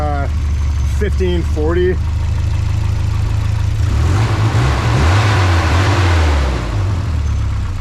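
A $400 Volvo 740 cranks over and catches, then settles into a steady low idle with a slight rise in revs, loud and close. A voice talks over the start.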